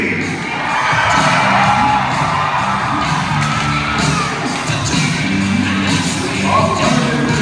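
A crowd screams and cheers at a full contact jousting event at the Agribition in Regina, Saskatchewan, a loud, continuous roar of whoops and yells with occasional sharper shouts, steady for the whole stretch.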